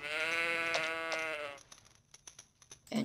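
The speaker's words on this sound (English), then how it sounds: "And that's a sheep." Sheep in the Minecraft video game, on an island map, lets out a clear, near bleat lasting about a second and a half, followed by a few short clicks and soft game sounds.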